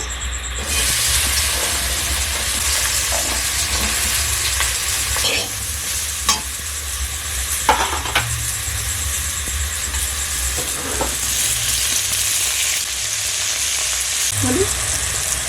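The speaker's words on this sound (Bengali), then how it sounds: "এবার পটল ভেজে নেব।" Steady loud sizzling of pointed gourd frying in hot oil, with occasional scraping and stirring of a spatula against the pan.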